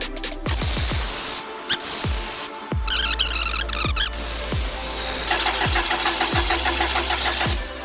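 A Subaru Impreza WRX wagon with a 2.0 engine and a new turbo cranks over repeatedly without firing, giving loud, rhythmic starter-motor chugging that runs steadily for several seconds up close.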